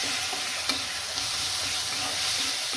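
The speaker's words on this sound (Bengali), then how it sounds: "আদা বাটা রসুন বাটা দিলাম দিয়ে এটাকে খুব ভালো করে কষিয়ে নেবো" Ginger and garlic paste masala stir-fried in a pan makes a loud, continuous sizzle with a couple of light scraping strokes, close up and without voices.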